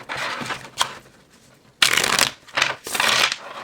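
Tarot cards shuffled on an unmuted table: several bursts of crisp, papery riffling with brief pauses between, close and fairly loud, no voices.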